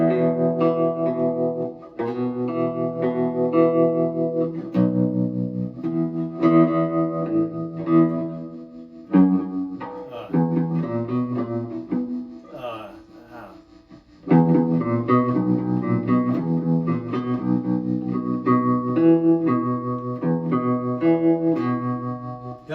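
Electric guitar with a lipstick pickup playing an old tune, twangy melodic notes with low resonant lines and some echo, played in phrases with brief pauses.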